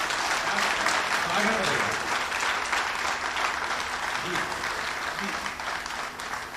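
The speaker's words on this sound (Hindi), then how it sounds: "एक बार सारे लोग जोरदार तालियां बजा दीजिए" An audience at a comedy poetry show breaks into loud, sustained applause, a dense wash of clapping that fades slightly toward the end.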